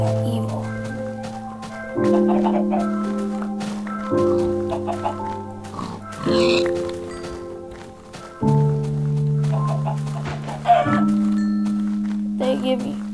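Video game chickens cluck in short bursts over looping melodic game music, with a person talking throughout.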